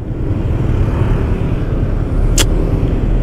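Cars crawling in a holiday traffic jam, a steady loud low engine rumble heard from inside a vehicle, with one brief sharp click near the end.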